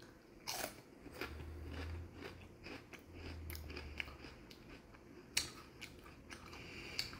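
All dressed potato chips dipped in dip are bitten and crunched close to the microphone, giving soft, faint crackling crunches with small chewing clicks scattered through a quiet background.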